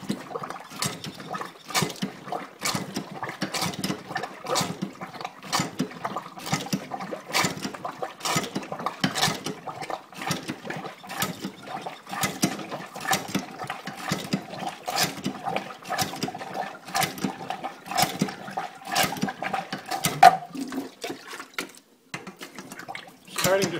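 An indoor cottage water pump drawing up lake water: rapid, regular pulses of gushing and sputtering water repeat steadily for a long stretch before slowing and stopping near the end, close and fairly loud.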